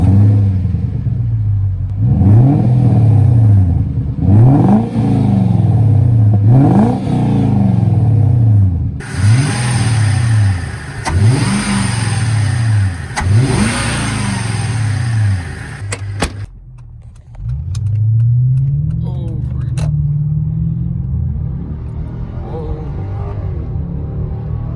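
A car engine fitted with a K&N air filter revs repeatedly in stepped bursts, each rise sweeping up and falling back, loud and close, then settles to a steady idle with a brief clunk near the end.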